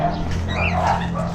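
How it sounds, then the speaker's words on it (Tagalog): Dogs, including a puppy, yapping and whimpering at close range over a steady low hum, with no clear separate barks standing out. "Kahula ng mga aso"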